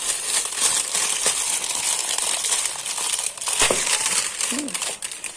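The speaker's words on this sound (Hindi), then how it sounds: "दूसरी मिठाई का डब्बा खोलूँ तो कितनी पैक करके देते हैं मिठाई वाले।" Crinkling and crumpling of packaging as a packed box of sweets is opened at home, a steady rustle with a few sharper crackles, close and fairly loud throughout, with no talking.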